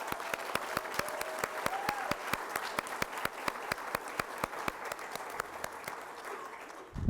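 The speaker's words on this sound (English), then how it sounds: "Let's give them a round of applause." Graduates at a CMA pinning ceremony get applause from the audience, a steady crowd clapping with some sharp nearby claps standing out, fading toward the end.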